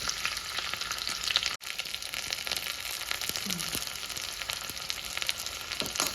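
Green chillies and onions fry in a little oil in a small pan, giving a steady close sizzle and crackle with scattered pops and no voices.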